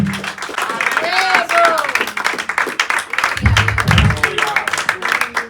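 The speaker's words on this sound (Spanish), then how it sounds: "un aplauso a Cristo" A congregation at an evangelical Spanish-language church service claps in praise, scattered claps mixed with cheering voices and background music, fairly loud and dense.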